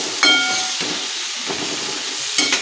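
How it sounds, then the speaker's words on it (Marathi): Washed gavar (cluster beans) tipped into a hot pan and stirred, giving a few sharp clanks of a spoon against metal over a continuous hissing sizzle. "यानंतर ही धुवून घेतलेली गवार याच्यामध्ये टाकायची आहे। हलवून घ्यायची आहे गवार अशा पद्धतीने।"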